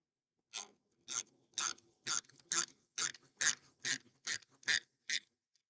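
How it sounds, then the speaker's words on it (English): A nylock nut being tightened on a carriage bolt holding a bracket, heard as eleven evenly spaced, crisp ratcheting rasps, close and clear, with quiet pauses between strokes and no talking. "And then you put the nylock on, and then you tighten."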